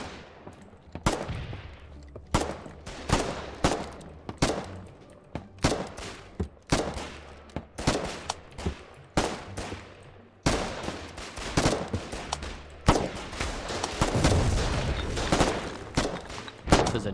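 Gunfire in the Foxhole war game, sharp repeated shots in irregular bursts with some rapid machine-gun runs, loud and close, continuing through the whole stretch.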